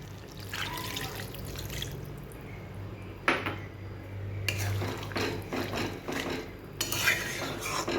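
A bowl of water is poured into a cooking pot while making Bengali aam sukto, a green mango dish, with splashing bursts and faint clinks of the pot and bowl at a moderate, close level.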